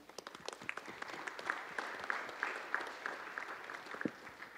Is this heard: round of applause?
yes